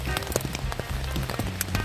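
Rain falls steadily at a campsite, a dense close patter of drops striking a surface throughout, with no voices.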